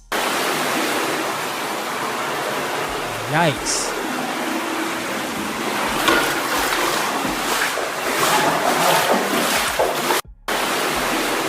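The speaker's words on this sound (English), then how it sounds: "Drake's crib flooded. And here is the footage from it." Floodwater rushes through a flooded house in Toronto as a loud, continuous broadband roar that fills the whole stretch, with a brief exclamation and faint voices over it.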